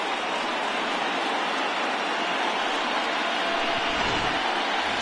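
Rain falls steadily at a baseball game, a dense even hiss of drops that holds at the same loud level throughout, with a faint low rumble near the end.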